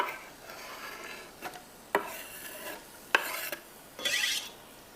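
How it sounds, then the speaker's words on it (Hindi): Onions go into a pan for beef chana pulao and begin frying, with a quiet steady sizzle broken by a few scraping stirs, and a brighter crackle near the end. "ये प्याज इसमें डालते हैं।"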